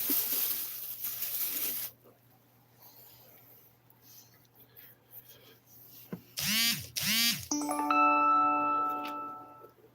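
Short chiming phone text alert rings out twice in quick succession, followed by a sustained multi-tone jingle, loud against an otherwise quiet room.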